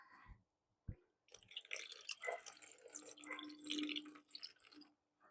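Water poured into the bottom of a dish pan holding potted plants, a soft continuous splashing and trickling that runs for several seconds after a couple of brief knocks, close and fairly quiet.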